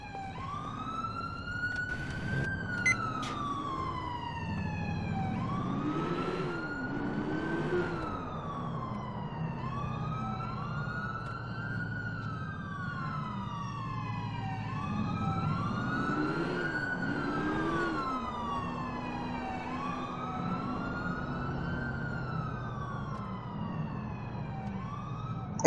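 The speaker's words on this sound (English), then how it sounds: "Here comes the lovely ambulance." An ambulance siren in a police roleplay video game wails on in a steady, repeating up-and-down pattern for the whole stretch. Car and engine noise sits underneath, and nobody speaks.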